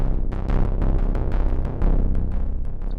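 GarageBand analog bass sequence synth pulses in a dense, rapid rhythm with a heavy low end and steady loudness throughout, heard alone without talk.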